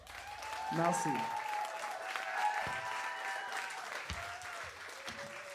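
Audience applause at an album launch party, fairly faint and mixed with cheering voices and a brief shout near the start, steady clapping continuing under background noise.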